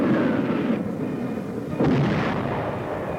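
Artillery and mortar fire in World War II battle footage rumbles as a continuous low roar, with two heavier booming impacts standing out midway, distant and muffled in quality.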